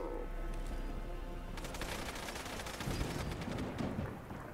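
Gunfire in the video game Fallout London, a rapid rattle of repeated shots crackling over a continuous rumbling battle din, fairly loud and sustained.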